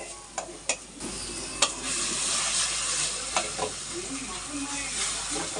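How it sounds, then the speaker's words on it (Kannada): Onions frying in a pan, a steady hiss of hot oil with several sharp clicks and scrapes as they are stirred, close and fairly loud. "ನೋಡಿ ಈರುಳ್ಳಿ ಫ್ರೈ ಆಗಿದೆ."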